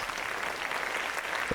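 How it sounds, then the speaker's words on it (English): Applause from the life-simulation video game Kudos, a steady wash of synthetic crowd clapping lasting the whole moment, with no talk over it. "I'll let the game clap."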